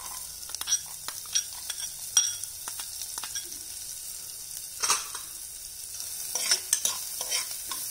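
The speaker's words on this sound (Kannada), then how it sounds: "ಈಗ ನೋಡಿ ಸಣ್ಣದಾಗಿ ಹೆಚ್ಚಿಟ್ಕೊಂಡಿರೋ ಕ್ಯಾರೆಟ್ನ ಹಾಕ್ತಾ ಇದ್ದೀನಿ ನಾನು" Finely chopped carrots drop into a hot pan and are stirred, giving soft sizzling with scattered light scrapes and clicks of a spoon, fairly quiet and without talk.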